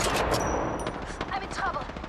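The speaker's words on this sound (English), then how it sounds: "The enemies are shooting at me." Rapid bursts of enemy gunfire crackle loud and close in the battle royale shooter Apex Legends, dense automatic shots running throughout, with a voice speaking underneath.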